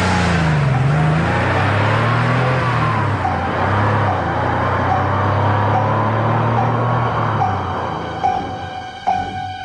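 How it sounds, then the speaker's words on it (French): A car pulls away, its engine loud and close at first with a rising, shifting drone that holds steady, then fades a little near the end, with a few sharp knocks. "Et la voiture de Monsieur Timothée Eustache Macandal s'éloigne"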